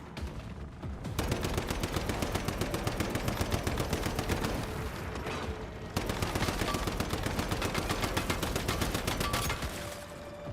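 Rapid automatic gunfire in a video game aimed at an armored boss, two long bursts of fast, evenly spaced shots with a short gap between them.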